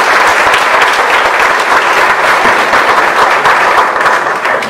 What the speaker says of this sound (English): Another round of applause for Ms. Preston.